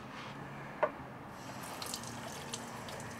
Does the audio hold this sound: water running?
yes